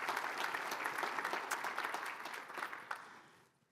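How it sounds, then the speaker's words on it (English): An awards ceremony audience at a Georgia Chamber rural awards event claps in a full, sustained burst that stays even for about three seconds before tapering off quickly at the end. "Another round of applause for Sumter."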